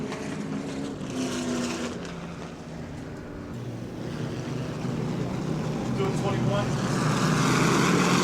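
Pro truck racing engines at New Smyrna speedway, one truck refiring after a solo spin, a steady loud roar that swells and grows heavier toward the end, with an announcer talking over it.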